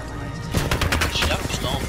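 Pistol gunfire in the shooter game Apex Legends, a quick string of sharp, close shots following a brief quieter lead-in, with faint voices in the background.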